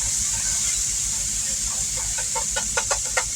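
Onions and garlic sizzle steadily in a hot pan as salmon with asparagus is prepared, a constant hiss with a few sharper pops near the end.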